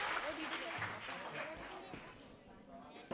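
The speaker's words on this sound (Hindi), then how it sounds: "बिल्कुल सही जवाब, जोरदार तालियां इस ग्रुप के लिए" Applause for a quiz group at a school, a dense wash of clapping from a room of students, steady and moderately loud throughout.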